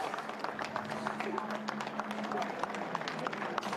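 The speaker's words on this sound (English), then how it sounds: "Give him a round of applause as he comes through" Spectators at the World Time Attack Challenge 2018 applaud a Suzuki time attack car as it passes, with a steady patter of clapping under a constant engine drone and a voice speaking over it.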